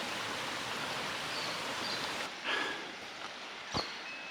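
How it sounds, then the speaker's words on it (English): Trickling water from a little stream beside the trail to First Falls, Morialta, flows steadily, joined partway through by a couple of brief rustles or bumps close by. "babbling brook."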